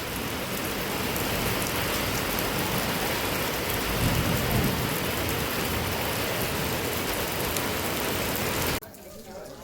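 Rain falls hard with rolling thunder along the Alipiri footpath at Tirupati, a loud sustained downpour with deep rumbles mid-way that cuts off abruptly near the end.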